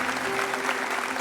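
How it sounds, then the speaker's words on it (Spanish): A church congregation applauds, a brief burst of steady, dense clapping from a crowd. "Denle un aplauso a estos amados amigos."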